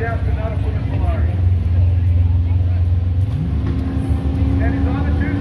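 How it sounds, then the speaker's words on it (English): A Dodge Aspen drag racing, its engine a steady loud drone that rises in pitch as the car launches, with people talking and commentary running over it. "Oh, we got a drag race!"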